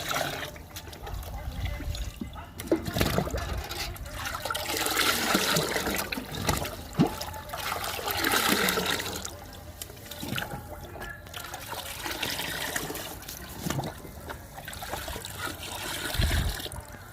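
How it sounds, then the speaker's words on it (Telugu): Groundnut cake liquid and kitchen-waste liquid fertilizer being poured and stirred into water for garden plants, a steady trickling, splashing flow that runs continuously with no voices. "శనగ చెక్క లిక్విడ్ని కిచెన్ వేస్ట్ లిక్విడ్ని రెండింటిని వాటర్లో డైల్యూట్ చేసాము"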